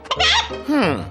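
A hen in a cartoon lets out two quick, squawking clucks with rising and falling pitch, loud and near, likely voiced by a performer rather than a real bird.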